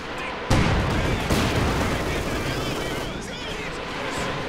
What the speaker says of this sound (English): Another rocket barrage.